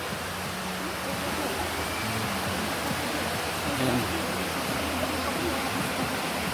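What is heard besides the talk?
waterfall flowing water at a resort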